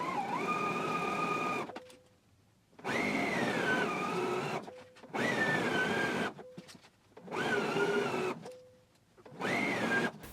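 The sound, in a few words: sewing machine sewing around a waistband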